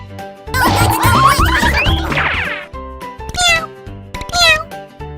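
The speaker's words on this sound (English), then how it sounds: "You are a bad cat!" Loud, exaggerated cartoon-style cat meows, one long wavering cry followed by two shorter yowls, mixed with bouncy sound effects.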